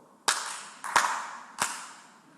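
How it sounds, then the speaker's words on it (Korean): A pastor claps his hands during a sermon, three sharp, loud single claps spaced unevenly, each ringing briefly in the room. "제가 또 박수 칠게요"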